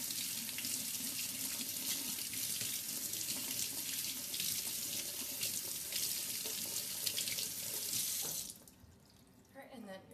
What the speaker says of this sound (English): And then we're just gonna rinse, rinse,